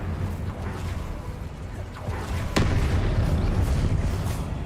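Spell explosions in the Hogwarts Legacy video game boom and crackle over a dense, rumbling game soundscape, with one sharp blast around the middle standing out from the continuous low roar.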